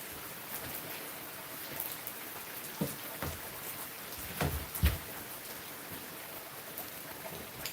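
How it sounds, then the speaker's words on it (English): Rain falling on a rainy Monday, an even wash of patter with a few heavier close drops and thumps standing out midway, fairly faint overall and free of talk. "Let's just enjoy the sound of rain."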